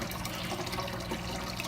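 Water runs steadily from a tap in a home where a turtle is kept, a continuous broadband rush and splash with no pauses, fairly close and alone without any talk.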